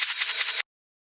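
Transition effect made from a recorded hi-hat loop played in reverse for a hard trance track: a short, bright, hissy wash that holds steady with a faint pulsing texture and then cuts off sharply into silence.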